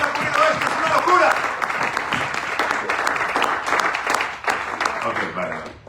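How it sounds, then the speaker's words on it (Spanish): Audience applause at a Kerouac Festival poetry event in New York, brisk clapping mixed with overlapping voices and cheers, fairly close, easing off toward the end. "¡Un fuerte aplauso para él!"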